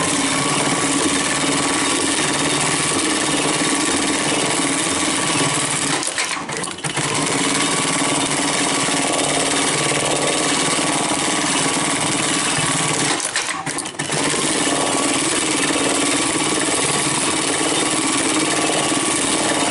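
A Brother BAS326H industrial pattern sewing machine stitches in a steady, loud mechanical drone, broken by two short pauses where it stops before running on again.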